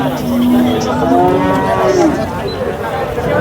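Several cows moo loudly and close by at the Sangola cattle market, their long calls overlapping over a busy background murmur of a crowded outdoor space.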